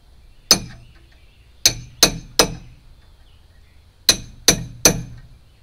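Hammer tapping a masonry chisel into a smokehouse log, seven sharp metallic clinks, close and distinct, arriving in two quick groups of three or four separated by short pauses.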